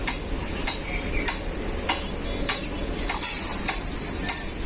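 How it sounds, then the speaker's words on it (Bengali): Moong dal is dry-roasted in a pan for vegetable khichuri. A spatula scrapes in a steady rhythm about every half second over a faint background sizzle, with no voices. "মুগ ডালটা ভাজা হয়ে গেছে"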